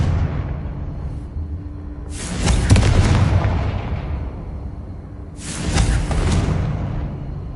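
Two loud, close Confringo blasting-spell explosions go off in Hogwarts Legacy, each a sudden booming burst that rumbles and fades, about three seconds apart, with no talking.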